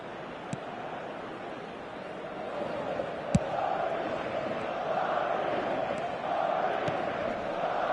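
Virtual stadium crowd in an eFootball match roars in a steady, broad wash of cheering that swells and holds, with a few sharp clicks cutting through.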